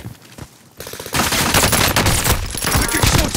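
Dense, loud automatic gunfire from the Call of Duty: Modern Warfare video game starts after a quieter moment and sustains as rapid overlapping bursts up close, with players talking underneath.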